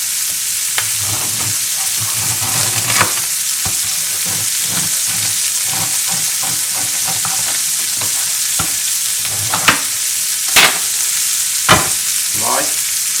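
Steak pieces for a sirloin steak sandwich fry in a pan with a steady, close sizzle, broken by scattered clinks and scrapes of stirring and a few sharper pops through the middle and late stretch.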